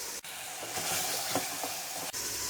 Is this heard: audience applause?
no